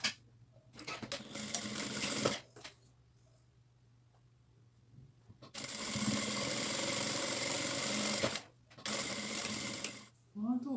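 A sewing machine stitches the side seams of a fabric piece in bursts of fast, buzzing running, with quiet pauses between runs, heard close and clear.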